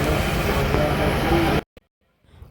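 Inside a stationary passenger train on a travel day towards Naxalbari, a steady broadband cabin rumble and hum fills the first second and a half, then cuts off abruptly to near silence with a faint click and soft noise.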